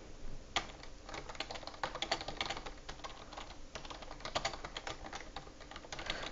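Soft, rapid, steady typing on a computer keyboard during a Type Racer race, with a continuous run of light key clicks heard faintly and alone.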